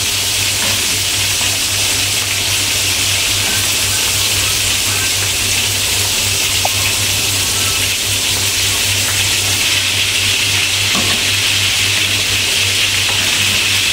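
Fish frying in a pan: a steady, dense sizzle fills the whole stretch, loud and continuous with a low constant hum underneath and no talking.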